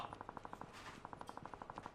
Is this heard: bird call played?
no